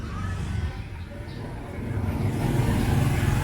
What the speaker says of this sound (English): That's the city, that's a trash truck.